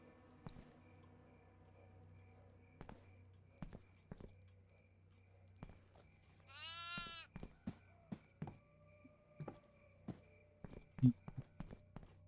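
Goats bleat in the horror video game Devour, a single wavering bleat rising clearly amid sparse footsteps and clicks in a quiet, dark ambience with faint insect hum.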